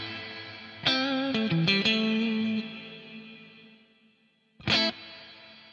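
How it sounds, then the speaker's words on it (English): Electric guitar chords run through a BOSS 500 series plate-style reverb: two bursts of struck notes, then a long shimmering tail fading out before a final loud stab rings on alone. "go in and add a nice plate style reverb"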